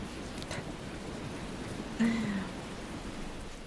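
Rain falls in the Tales of Berseria video game, a steady soft hiss of light rainfall throughout with a brief low tone near the middle, quiet and without talk.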